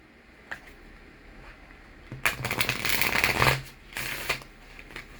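Tarot cards shuffle and riffle from a deck at close range, a brief quiet flick followed by a louder burst of rapid papery riffling and a final short shuffle.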